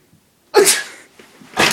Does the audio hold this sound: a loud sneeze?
yes